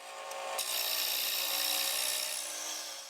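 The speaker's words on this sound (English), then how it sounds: "We're going to use our easy finisher and slowly slide it back and forth while being careful not to get close to the bead." A finisher tool slides back and forth across a wooden bowl spinning on a lathe, near the beaded rim, giving a steady, close hiss of scraping wood with a sharp onset just after the start, alone without talk.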